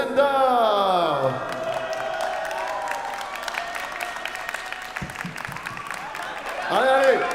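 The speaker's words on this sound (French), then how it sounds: "Je vous invite à applaudir les World Standards" A crowd at Japan Expo 2017 applauds as the World Standard performers are welcomed, with clapping and some cheering running beneath an announcer's loud voice that opens and closes the moment.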